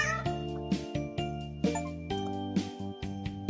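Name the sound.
cat meowing in a cat cafe video game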